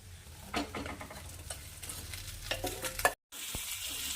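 Toor dal being stirred into a vegetable dish frying in a pan, with scraping strokes and light sizzling, quiet and close, ending in a brief gap.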